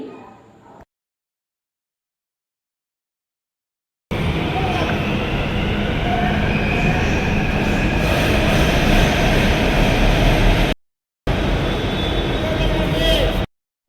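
Loud rumbling of a crowded passenger train in motion, with a busy murmur of voices, cut by brief silent gaps.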